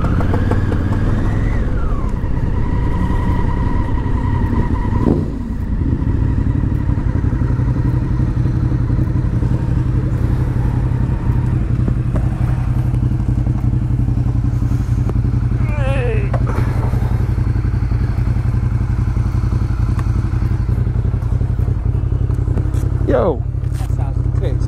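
Popping and banging from a motorcycle engine with its fueling slightly out while riding, under a constant loud engine drone and wind, with a rider talking over it.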